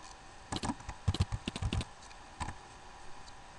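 Fingers tap out a short burst of keystrokes on a computer keyboard, a quick cluster of crisp clicks followed by a few isolated taps. The typing is close and quiet.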